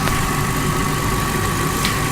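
A car engine idling roughly and on the verge of stalling, a loud, steady, close-up mechanical drone with a constant hum and slight irregular vibration throughout.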